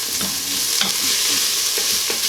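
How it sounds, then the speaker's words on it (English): Chopped garlic sautéing in an Instant Pot sizzles loudly and up close, with a few stirring scrapes and soft knocks spaced through the steady frying hiss, no one speaking. "let's get the garlic in. Let that go for a second or two."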